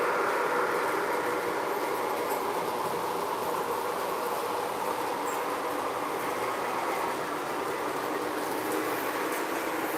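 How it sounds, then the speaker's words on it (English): An O-scale model D&H train pulled by four locomotives runs on a layout, giving a steady, fairly quiet rolling rumble with faint wheel clatter and no talk. "You got 4 locomotives there."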